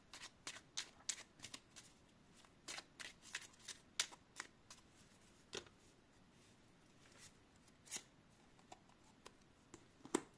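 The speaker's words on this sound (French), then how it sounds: "Je te tire une petite carte de l'oracle de Gaïa en plus." Gaia oracle cards are shuffled by hand, a rapid string of soft, close riffling flicks and slaps that come in uneven bursts with brief pauses, quiet and without any talk.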